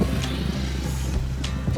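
Wind blows against the microphone in a low, steady rumble with slight gusts.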